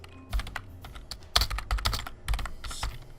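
Rapid, close computer keyboard typing in several quick bursts of clacking keystrokes, with short pauses between them.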